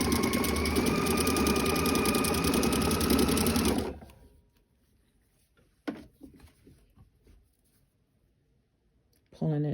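A sewing machine runs a zigzag stitch along the edge of underwear elastic, a loud steady whirring burst for about four seconds, then stops, followed by quiet handling clicks and rustles, with a brief second burst at the end.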